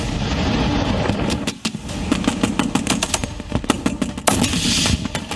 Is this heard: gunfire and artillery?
yes